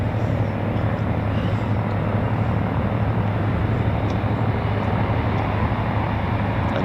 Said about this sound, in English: Another Typhoon taxiing out.